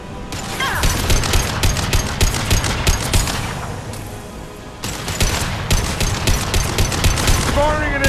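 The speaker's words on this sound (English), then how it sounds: "Firing an impact gun." An impact gun firing in Mass Effect 2: rapid, loud bursts of automatic fire in two long stretches separated by a brief lull, with voice fragments mixed in.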